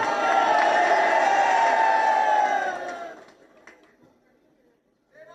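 Crowd at a Pakistani political rally chanting slogans, a loud massed roar of voices that holds steady for about three seconds, then fades away into near silence before a voice begins.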